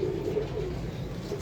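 Pigeons cooing in a loft, a steady low burbling coo that carries on without pause, close and fairly quiet, with no talking.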